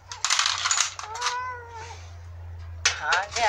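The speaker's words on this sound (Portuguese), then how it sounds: "¿Cómo te metiste ahí, gato?" A cat gives a couple of drawn-out meows, one in the middle and another at the end, close by, mixed with bursts of people talking.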